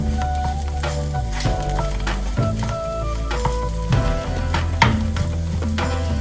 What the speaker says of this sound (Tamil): எல்லாமே நல்லா ரோஸ்ட் ஆகுது